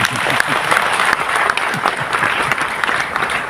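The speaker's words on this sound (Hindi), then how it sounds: "आप ताली बजा सकते हो" Audience applause in a university hall during a conference, steady and loud crowd clapping throughout, with faint voices mixed in underneath.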